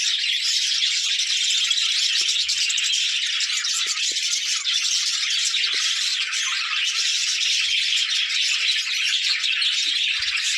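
A colony of budgerigars chirps continuously, a dense, loud chatter of many overlapping high tweets that never pauses, with no talking.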